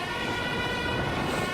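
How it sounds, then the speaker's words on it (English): Siren of a Dutch emergency vehicle on the road, a loud, continuous, booming wail that fills the whole moment with no voices over it. "That is actually really booming, that siren."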